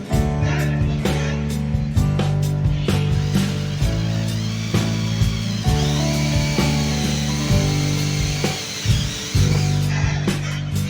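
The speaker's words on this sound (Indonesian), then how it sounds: "Lanjut kita menggunakan mata bor 10 mili ya, yang maksimal." A Sunc Tool 21S cordless drill with a 10 mm bit whines loudly and steadily, its motor pitch dipping and surging in short pulses as it bores through material, close up with no talking.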